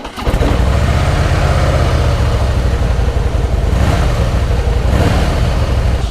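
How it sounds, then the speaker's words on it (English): A Harley-Davidson Fat Boy motorcycle engine cranks and catches, then settles into a loud, steady low rumble that continues to the end. "Switch the engine on."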